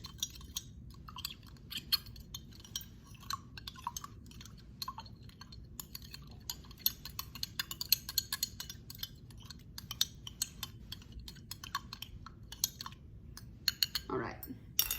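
A spoon stirring powder in a glass during a bonding lab, producing rapid light clinks and ticks throughout, faint and close, over a low background hum.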